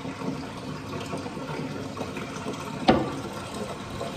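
Water is poured off rinsed rice in a cooking pot in a home kitchen, a soft, continuous trickle and splash with one sharp louder splash near the end, and no talking.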